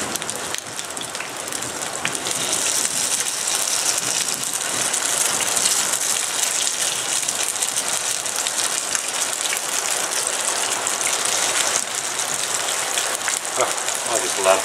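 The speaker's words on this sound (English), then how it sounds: "listen to that beautiful rain" Steady rain pours down across an off-grid homestead, a dense, even hiss of drops drumming on surfaces that holds unchanged from start to finish, with no voices or other clear sounds.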